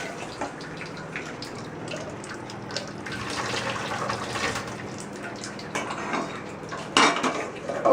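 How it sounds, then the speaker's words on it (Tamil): Fried urad dal being washed in water in a kitchen vessel: steady sloshing and swishing with clinks of metal utensils throughout, a sharper clatter near the end, close and moderately loud, no talking. "இப்போ கொஞ்சம் தண்ணி ஊற்றி நல்லா வாஷ் பண்ணிடுங்க."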